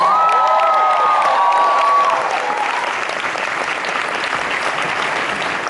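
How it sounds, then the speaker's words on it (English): Loud, sustained audience applause fills the room at a feminist poetry and performance event, with a few cheers and a voice audible over the first two seconds before the clapping continues as a dense wash to the end. "Let's give her a round of applause."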